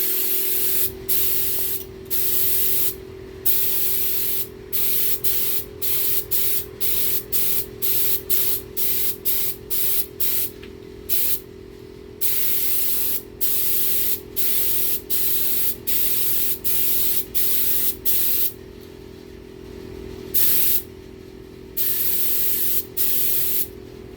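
A spray can hisses in repeated bursts while painting Affordaplane aircraft wings, short and long blasts separated by brief pauses, close and loud with a steady hum beneath.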